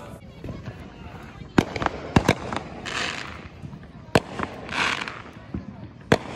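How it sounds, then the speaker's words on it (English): Fireworks crackle and pop nearby, with several sharp loud bangs scattered irregularly among hissing bursts and a background of excited voices. "Wow, fireworks."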